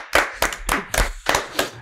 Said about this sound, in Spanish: Un aplauso para los chicos que están aquí.